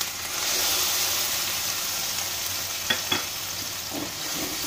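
Tomatoes sautéing with ginger, garlic and onion in a pan for a spicy pasta, a dense continuous sizzle with a couple of brief spoon knocks near the end, nearby and without any talking.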